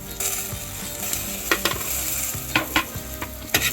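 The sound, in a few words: stirring roasted sesame, peanut powder and salt on low flame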